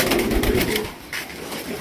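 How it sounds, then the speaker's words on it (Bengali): Pigeons cooing nearby, a couple of low throaty coos in quick succession over faint background noise. "আগুনের কবুতর প্রচুর ডাকে"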